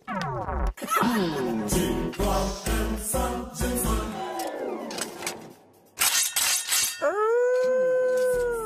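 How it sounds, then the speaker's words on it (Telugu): A dog howls in long, wavering, drawn-out cries that rise and fall in pitch, with a short break partway through. A few sharp clinking sounds are mixed in. "అదేంటి సార్, శ్మశానంలో కుక్కరిచినట్టు?"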